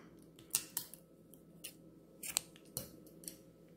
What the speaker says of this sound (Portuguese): Aqui é só cortar.